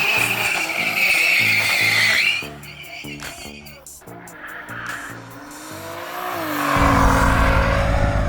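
An 800HP car and a modded BMW M5 race in a drag run, with engines revving loud, tires squealing and rapid gear shifts as revs rise and fall, ending in a roaring surge of acceleration.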